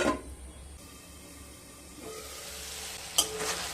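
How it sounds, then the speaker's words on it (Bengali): Spices cook with a little water in a pan for papaya and masoor dal, giving a steady close hiss and sizzle, with a stirring clink and a louder burst of steam near the end. "জল দিয়ে মশলাগুলোকে খুব ভালো মতো কষিয়ে নেব"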